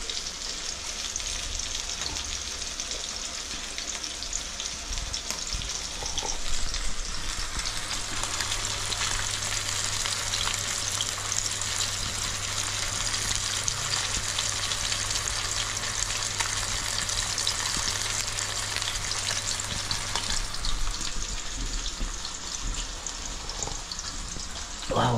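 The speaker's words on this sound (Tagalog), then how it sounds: "May prito tayong salmon." Salmon frying in a pan gives a steady, loud sizzle and crackle that runs unbroken for the whole stretch, with no voices over it.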